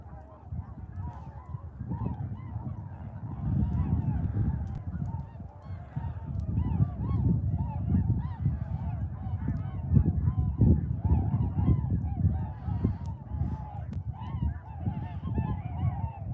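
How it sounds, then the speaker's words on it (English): A flock of geese passes overhead at Middle Creek Wildlife Management Area during a snowstorm, a dense continuous chorus of honking calls rising and falling at moderate loudness, with no talking. "Okay, there's a flock ahead. It's overhead."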